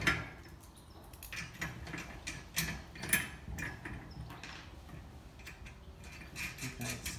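A nut is tightened on a bolt during assembly of a 100-litre wheelbarrow, giving a run of small close ratcheting clicks and metallic ticks that fade to a quieter stretch.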